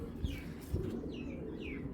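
Racing pigeons at a pigeon seller's, with soft low coos and a few brief chirps or wing sounds. The birds are fairly close and steady in a quiet room, with no talk heard.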